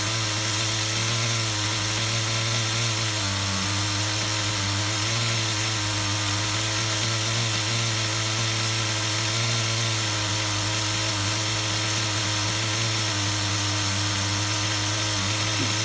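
A 20-year-old HPI RS4 Nitro F150 RC car nitro engine idles on a bench in a steady, loud, continuous buzzing drone with a slight warble, running alone throughout.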